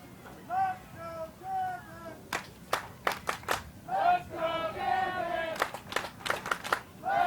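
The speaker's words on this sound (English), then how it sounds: "Crowd now cheering on the Gambits." Spectators at a US Quidditch Cup match between the L.A. Gambits and the Warriors break into scattered clapping and bursts of cheering, with commentators talking throughout.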